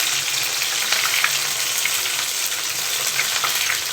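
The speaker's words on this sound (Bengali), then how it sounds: "লাগছে তপসে মাছের গোল্ডেন ফ্রাইগুলোকে।" Topse fish pieces fry golden in hot oil, giving a steady, close, dense sizzle and crackle with small pops throughout and no voices.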